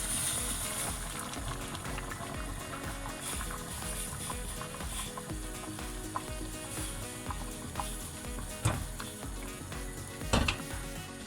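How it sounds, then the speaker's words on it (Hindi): Water poured into a pot of mutton soup already cooking with tomatoes, a continuous sizzling, bubbling hiss with occasional clinks of a ladle against the pot. "अब हम डालेंगे इसमें पानी।"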